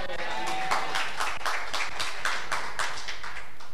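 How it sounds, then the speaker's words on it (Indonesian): Church congregation clapping in a fairly steady, rhythmic beat during a sermon, a dense run of even claps from a crowd heard clearly throughout. "Tepuk tangan dong."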